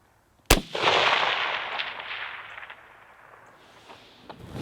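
A single sharp rifle shot cracks out at a long-range shooting session, then a long rolling echo fades slowly over several seconds, with a faint click near the end.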